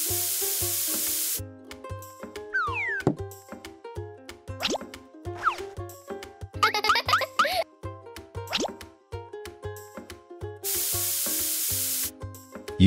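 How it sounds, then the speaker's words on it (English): White spray paint hisses out of an aerosol can in steady, loud bursts at the start and again near the end, with small plops, clicks and squeaky handling noises from a stop-motion paper craft in between. "Then use white paint spray on to change the skin color to white."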